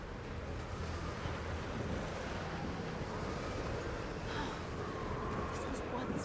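Strong wind blowing across a windy part of Yamatai in the game Tomb Raider: a dense, steady roar of gusting air that continues unbroken throughout.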